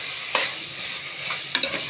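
Tomato and capsicum sautéing in a pan, a steady soft sizzle broken by a few sharp scraping stirs of a spoon against the pan, close and alone.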